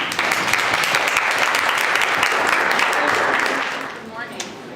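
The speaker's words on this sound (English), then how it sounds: "So let's give a round of applause to Tony." Sustained audience clapping at a 1 Million Cups Dallas startup pitch event, loud and full for about three and a half seconds before thinning out and tapering off near the end.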